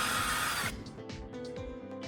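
Power drill spinning a carbon rod in its chuck, a loud high whir for under a second that cuts off abruptly, followed by brief rattling and handling knocks as it winds down.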